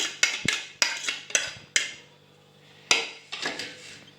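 Beaten egg yolk whisked in a bowl with a utensil, a series of sharp clinks and taps against the bowl in irregular bursts, close and fairly loud, with brief pauses between strokes.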